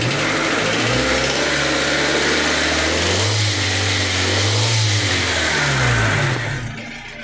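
A 1998 Honda Civic engine with a knock runs close and loud just after a cold start, its low drone rising and falling as it revs without talk.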